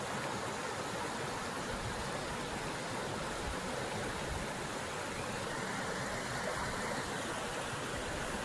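A small roadside waterfall cascading over rock formations, with running water in the woods giving a steady, dense rushing wash that is unbroken and fairly close, with no voices.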